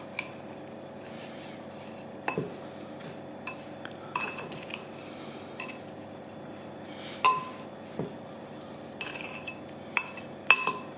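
Candied orange peel is tossed with sugar in a bowl, a spoon clinking and tapping against the dish in scattered knocks over a steady low hum, quiet voice now and then.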